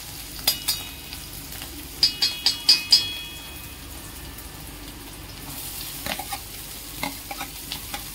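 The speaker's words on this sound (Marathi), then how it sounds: "मिरची थोडी परतली की मग त्यात कांदा घालू।" Green chillies and onion frying in a pan for gilki bharit, a soft steady sizzle with a quick series of five light stirring clinks, then a few more scattered scrapes, no talk.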